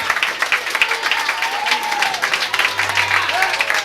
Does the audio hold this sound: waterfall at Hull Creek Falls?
no